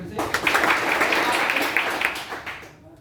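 An audience at a DXN business meeting bursts into loud, dense applause that holds steady for nearly three seconds, with scattered individual claps standing out before it fades away.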